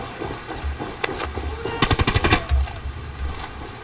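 Rapid bursts of video game gunfire from a stealth-free shootout, a cluster of close, loud shots around the middle with scattered single shots before and after, and no talking.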